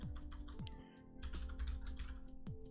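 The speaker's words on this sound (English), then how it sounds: "it's basically a typing exercise at this point, but it must be done" Steady typing on a computer keyboard during a live coding session, quick irregular key clicks close by with a few louder thumps, like the space bar, at regular intervals, and no speech.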